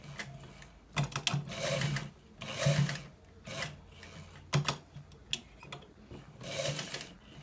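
A sewing machine stitches a simple shirt collar in short close bursts of rapid mechanical whirring, separated by brief pauses, with no talking.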